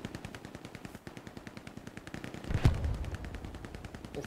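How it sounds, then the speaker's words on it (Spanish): Machine gun fire in the World War II shooter Hell Let Loose, rapid steady bursts of shots from a short distance, then a louder blast and rumble partway through, with no voices. "Hay una MG ahí"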